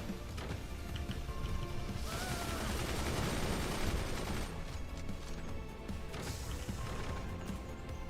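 Machine gunners fire in the Forts real-time strategy game, heard as a sustained rattling burst that swells for several seconds over a steady background of battle noise, with a shorter burst near the end.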